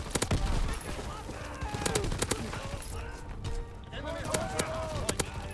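Machine gun fire in Call of Duty: WW2, rapid bursts of gunfire mixed with other shots in a busy game battle, with a player talking over the action.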